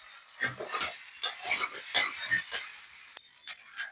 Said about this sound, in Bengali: সেদ্ধ করে রাখা কচু জল ঝরিয়ে আমি এবার মশলা কষানোর ভিতরে দিয়ে দেবো